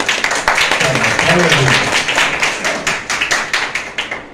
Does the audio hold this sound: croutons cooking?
no